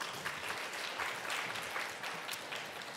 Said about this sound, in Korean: 박수를 부탁드립니다